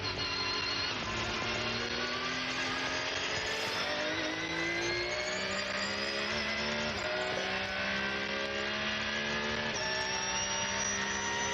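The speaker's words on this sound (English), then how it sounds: "Just listening to that Porsche engine purring across the line." A Porsche race car engine at the Nürburgring during 24-hour race qualifying, loud and continuous, its harmonic howl steadily rising with several gear-change dips along the way, heard alone throughout.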